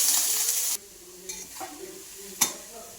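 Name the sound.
stirring grated milk mixture in greased pan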